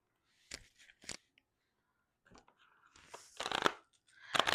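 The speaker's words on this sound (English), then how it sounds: "These cards are super hard to shuffle." Tarot cards are shuffled in short, crisp bursts of riffling and snapping, a few isolated flicks at first and then longer, louder shuffles near the end, close by with no talk.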